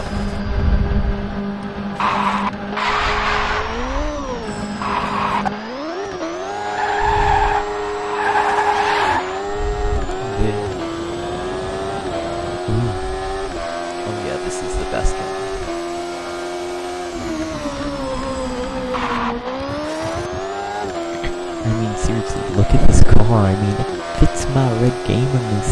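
Tires squealing and skidding as a car spins donuts in the racing video game RaceCraft, a long, loud engine drone with shifting pitch, and a voice talks over it at times.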